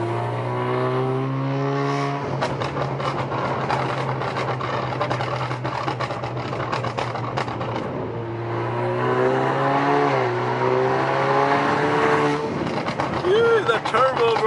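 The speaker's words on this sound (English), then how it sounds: "That's the turbo." An Alfa Romeo Giulia's turbocharged engine drones and revs loudly from inside the car, its pitch rising and falling through the gears, with people talking over it.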